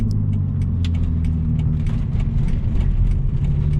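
A BMW Z4 with its roof up holds a steady mid-pitched engine drone with a deep rumble just after a downshift into second gear, close and continuous.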